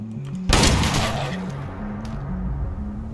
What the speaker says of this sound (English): Shooting it did nothing until I shot it in the head.